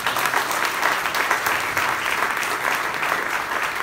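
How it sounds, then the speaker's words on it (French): Applause from a church congregation for a pastor, steady dense clapping from a crowd, fairly close and continuous without a break. "Applaudissez le pasteur."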